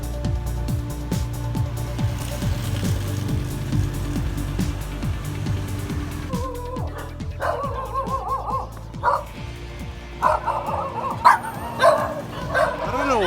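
Dogs bark and yip along a street in Sanur, Bali, with traffic and street noise throughout and a person talking over them; the sharper barks bunch together toward the end.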